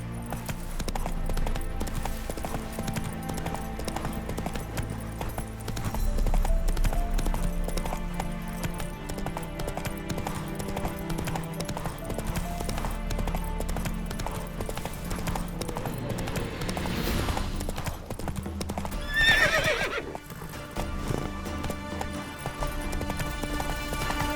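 Horse galloping in the video game The Witcher 3: Wild Hunt, with rapid steady clip-clop hoofbeats running throughout, over a game soundscape with a brief whinny-like sound near the end.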